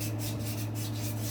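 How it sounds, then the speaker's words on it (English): Sandpaper rubs over a nitro RC helicopter muffler in short, even back-and-forth strokes, a close, soft rasping with no talk, set against a steady low hum. "I'm just sanding all that away"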